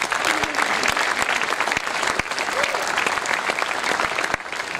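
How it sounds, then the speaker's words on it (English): Steady audience applause fills a school ceremony hall at the Scindia School, dense and close, with a few sharper individual claps standing out and no talk over it. "Can we have a clap for this?"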